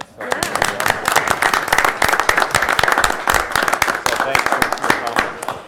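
Dense, steady applause from a crowd, many hands clapping continuously for several seconds with a few louder claps standing out.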